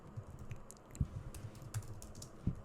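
Python code being typed on a computer keyboard, a steady run of soft, close key clicks with a few heavier thumps, no voice.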